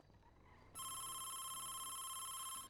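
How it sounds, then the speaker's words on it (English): A phone rings inside a video game, one steady electronic ring tone sustained for about two seconds, loud and clean, following a brief murmur of talk. "Oh, that's my phone."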